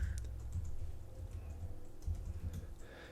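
Fingers tap on a computer keyboard in a quick, uneven run of soft clicks, fairly quiet and close, with no voices over them.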